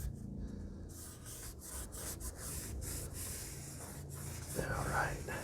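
By hand, someone scrubs the surface of a 2001 Ford Expedition rear axle, with repeated rough rubbing strokes in a loose rhythm, close and fairly quiet, and faint voice-like sounds in the background.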